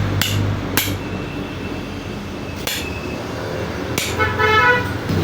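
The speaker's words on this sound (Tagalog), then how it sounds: "tabi tayo ng kalsada medyo maingay siya" Busy roadside traffic noise with vehicles rushing past, a few sharp clacks and a horn-like toot, steady and fairly loud throughout.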